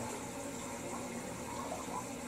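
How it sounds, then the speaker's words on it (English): A toilet being flushed to clear out gunk during a bowl cleaning test for lime, calcium and rust, giving a steady, continuous rush of water close by with no voices. "I want to flush this a couple more times to get some of this gunk out of here."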